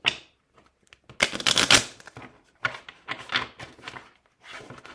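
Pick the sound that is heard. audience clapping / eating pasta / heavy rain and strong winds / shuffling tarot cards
shuffling tarot cards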